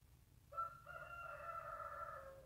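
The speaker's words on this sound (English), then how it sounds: "Good morning, rooster." A rooster crows in the morning in the farming game Stardew Valley, a single drawn-out tonal cock-a-doodle-doo rising then held, clear against a soft background.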